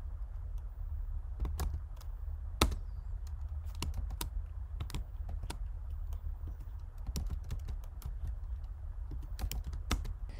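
Computer keyboard typing in LyX, a steady series of sharp, close key clicks with irregular spacing over a low background hum.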